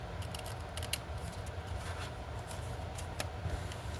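Scissors trimming craft paper make crisp, close snips and rustles in quick irregular bursts, with a few sharper cuts standing out. No voices are heard.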